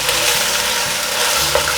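Napa cabbage stems are tossed quickly with softened mushrooms in a hot oiled pan. A steady close sizzle runs throughout, with soft scraping stir strokes and no talking.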